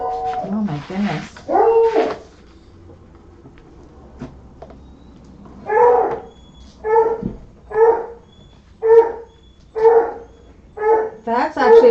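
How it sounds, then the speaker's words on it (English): Pet dog at home barking at someone arriving, a series of about eight sharp, loud barks at a steady rhythm, preceded by a few whiny yelps and a voice speaking. "That's actually a bark that sounds like somebody is here."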